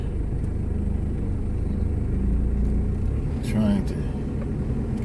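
Steady city traffic rumble heard while riding around a city in Thailand, a constant low engine drone with a brief louder vehicle passing near the end.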